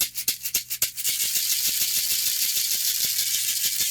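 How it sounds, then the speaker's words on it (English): A woven basket shaker with a gourd bottom, filled with seeds, shells or stones, rattles close up: a few sharp separate shakes first, then a steady rhythmic stream of quick bright rattling. "Some other shakers, a woven basket."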